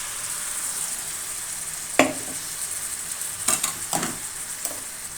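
Water poured into a sizzling pan of ground coconut and fennel gravy for cabbage channa dal, a steady sizzle broken by a few sharp splashes and clinks.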